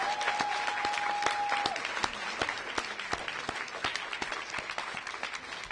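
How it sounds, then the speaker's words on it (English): Applause from a crowded audience at a mayoral announcement of District school test results, a dense steady wash of many hands clapping that thins slightly toward the end, with a faint sustained tone early on. "Give yourselves another round of applause."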